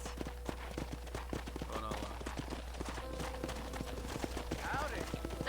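Horse hooves clip-clop in a steady, close rhythm in the Red Dead Redemption video game, a wild-west setting near a corral, heard under a continuous background hum.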